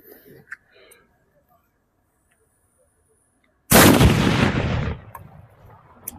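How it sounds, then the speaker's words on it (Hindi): An atom bomb firecracker at Diwali goes off with a single loud, sharp blast that roars and decays over about a second, after a quiet stretch with faint voices and a pop beforehand. "अब हम लोग के पास रहा ये देखो ऑटम बम शोरशेर, इसका भाई साउंड सबसे ज़्यादा मस्त होने वाला है"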